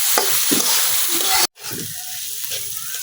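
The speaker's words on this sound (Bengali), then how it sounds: "আমি কিন্তু ডিমের সাথে পেঁয়াজের পাতাটাও খুব সুন্দরভাবে ভেজে নিয়েছি।" Egg with spring onion greens frying in a pan, a steady close sizzle with scraping stir strokes, broken by a brief dropout midway before the frying resumes.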